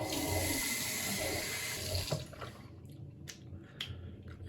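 A tap runs steadily and close for about two seconds while skin is rinsed after a shave, then shuts off, leaving faint drips and small splashes.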